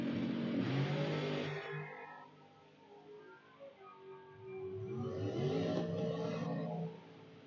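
A top dragster accelerates down the drag strip during qualifying at a raceway. Two loud, roaring engine bursts rise in pitch, separated by a quieter stretch, heard from a distance without any voices.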